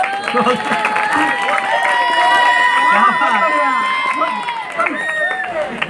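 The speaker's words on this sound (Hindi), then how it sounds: "ताली बजाओ" An audience at a Hindi comic poetry gathering claps and cheers, with continuous applause mixed with raised voices and shouts close by.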